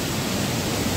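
Steady broadband rush of a waterfall among hills in Karbi Anglong, continuous and fairly close, with no voices.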